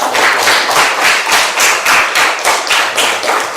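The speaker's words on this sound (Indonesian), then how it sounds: "Tepuk tangan dulu untuk semua." A group claps together in a school classroom, loud close rhythmic beats of hands striking in even unison pulses, with no talking over it.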